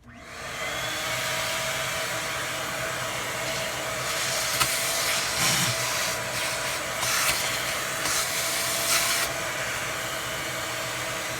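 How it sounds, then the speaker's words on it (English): A Ridgid portable shop vac sucking up debris from an iRobot, a loud steady roar of motor and airflow throughout, with brief rattling surges as bits are pulled into the nozzle midway. "I'm going to use this rigid portable shop vac to clean up this mess here"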